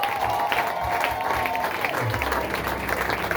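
A congregation claps at a Swahili prayer and healing meeting, a steady dense patter of many hands with a sustained tone and low rumble underneath, continuous for the whole stretch.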